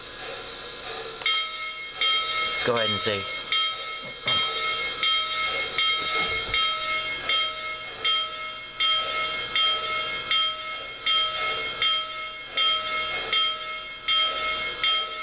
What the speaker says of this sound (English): next we'll listen to the bell.